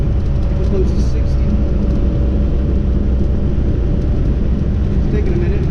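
A 1988 Suzuki Jimny with a 550cc turbo engine drones along a main road as it picks up speed, a steady loud low rumble of engine and road noise throughout.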